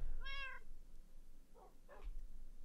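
A cat in the Minecraft video game meows once, a short clear game sound effect, followed by two fainter, softer meow-like calls over a quiet background.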